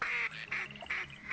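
Mallard and gadwall ducks quacking in the hunting game TheHunter Classic, a rapid series of nasal, honking calls repeating about four times in just over a second, fairly loud and close with no talk.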